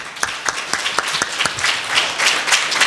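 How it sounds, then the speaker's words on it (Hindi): Close, lively clapping from a church congregation during a Hindi sermon, with rhythmic sharp claps standing out over a dense crowd of hands across the short stretch. "हालेलुया, मूसा के लिए ताली बजाएंगे।"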